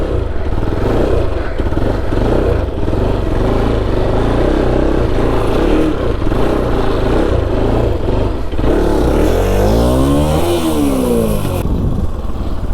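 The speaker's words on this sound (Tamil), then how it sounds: "ஃபுல்லாக வண்டி அணத்தணும், வண்டி கதறணும் நம்மக்கிட்ட." A motorcycle engine revving hard during wheelie practice, loud and close, with sustained high-rev roaring that rises and falls in repeated surges, ending in a climbing rev sweep.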